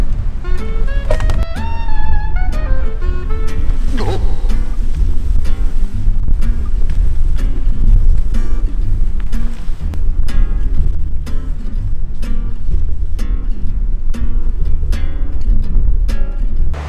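Sea wind and rain buffet a beach campsite, a constant loud roar of gusts and patter filling the whole stretch, with scattered rattles and knocks mixed in and no talking.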